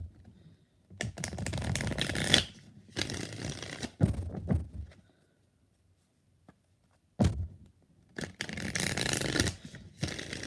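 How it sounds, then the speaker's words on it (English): Tarot cards are shuffled in several bursts of rapid riffling and flapping, close and crisp, separated by short pauses of near silence. "Two more shuffles."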